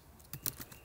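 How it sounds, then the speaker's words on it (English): Keys on a computer keyboard are tapped in a short, faint run of a few quick clicks against a quiet room background. "We'll type that in"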